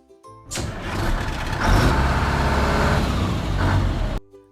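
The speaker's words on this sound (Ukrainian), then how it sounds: "Сідайте у наш чарівний автобус. Чуєте, як він заводиться?" A bus engine cranks and roars to life, then runs loudly and steadily for several seconds before cutting off abruptly.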